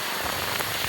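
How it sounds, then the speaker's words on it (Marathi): Heavy monsoon rain pours down in a steady, loud, dense hiss with no pauses, close by and with no voices over it. "आमच्या खूप पाऊस पडलेला आहे बघा इकडं"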